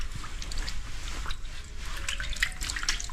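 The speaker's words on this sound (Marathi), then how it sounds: "पाण्यामध्ये आपण हातपाय तर धुया" Hands and feet are rinsed in the water of an old stone stepwell on a hilltop, giving close, irregular splashes and drips over a soft low rumble, with no voices.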